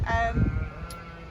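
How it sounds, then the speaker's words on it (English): A single short bleat from a sheep in a paddock, fairly close and loud, followed by quiet background. "the sheep are making an awful noise in the background"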